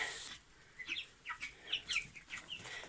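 Broiler chickens in a backyard coop cluck and chatter softly in short, scattered bursts, fairly close but low in level, with no talking.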